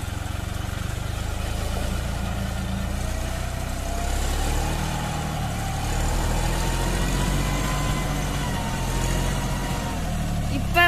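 A John Deere 5310 tractor reverses up a slope in two-wheel drive, its diesel engine droning steadily and close under a man's speech.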